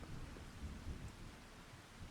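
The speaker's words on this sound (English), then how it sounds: "And it's raining under this light." A soft, steady hiss of rain falling outdoors under a darkening sky on a farm, with a low rumble underneath and no voices.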